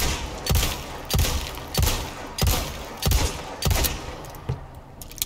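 Weapon fire in Resident Evil 4: about six evenly spaced heavy shots roughly a second apart, each a loud booming crack with a short tail, close and without speech.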